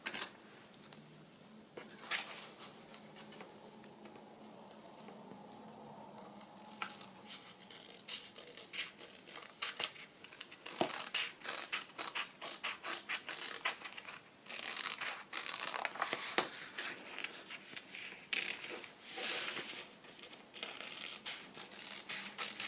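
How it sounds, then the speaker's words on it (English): Paper being cut around an outline for a triple flip-down envelope in a handmade Christmas journal, with steady close crinkling and crisp snips, growing busier and louder in the second half, with no talk. "let's cut around that and see how it looks"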